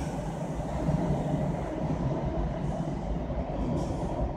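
Steady low rumble and hiss of a Toronto subway train in Spadina station, loud and continuous, with faint higher squeals toward the end.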